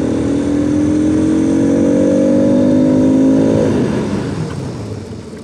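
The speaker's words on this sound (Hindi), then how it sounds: "पूरा मतलब बाइक रुक गई है 2 से 3 सेकंड में।" A sport motorcycle, a Bajaj Pulsar RS 200 or KTM RC 200 with ABS, runs loud and close, its engine note falling as both brakes are applied hard and the bike slows to a stop, with no talking.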